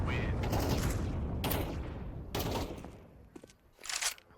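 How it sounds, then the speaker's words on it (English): Bombs exploding in a competitive video game match, as a rapid series of loud, crackling blasts in bursts that fade into scattered quieter pops and a final burst. "Here's the bombs exploding."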